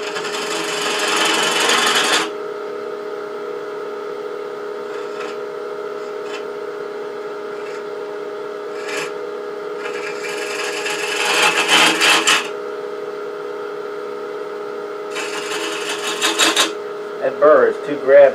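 A woodturning tool cuts Australian Mallee burl on a lathe under a steady motor hum, with rough, scraping bursts of cutting at the start, in the middle and near the end, and scattered light knocks in between.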